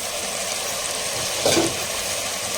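Mint and coriander leaves sautéing in hot oil in a pan, a steady, close sizzle with a brief louder hiss midway as the greens are stirred; no talking.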